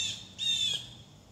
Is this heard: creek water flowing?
no